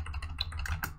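Quick, light clicking of keys as code is typed on a computer keyboard, a rapid irregular run of soft taps close by, with no talking.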